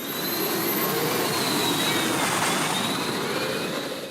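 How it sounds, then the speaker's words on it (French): Jet and helicopter turbine engines roar at a night-time tractor pulling event in Bernay, a loud, steady, continuous whine and rush that holds for several seconds with no talk. "Place aux moteurs d'avion et autres turbines d'hélicoptères."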